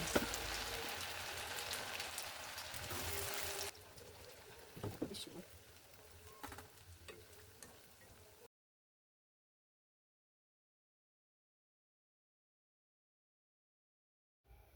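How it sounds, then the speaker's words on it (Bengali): Chira pitha deep-frying in hot oil until crispy gives a dense crackling sizzle under a speaking voice, then fades and cuts to silence partway through. "তো পিঠাগুলো এভাবে মুচমুচে করে একটু কড়া করে ভেজে নিতে হবে।"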